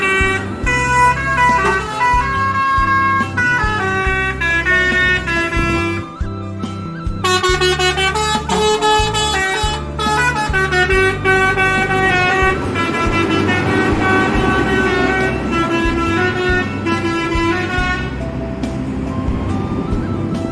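Horns of intercity buses sound at a morning bus terminal in Indonesia, loud and near, with long sustained blasts and overlapping toots that run almost continuously, tonal and layered.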